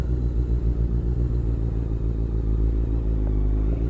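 A motorcycle rolling slowly on very light throttle while turning around, with a steady low engine rumble and faint mechanical clatter throughout, close and fairly loud.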